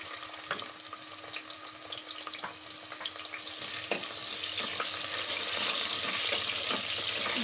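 Freshly chopped onion dropped into hot oil for a village-style chicken gravy, giving a steady close sizzle that builds and grows louder, with a few scattered clicks and pops.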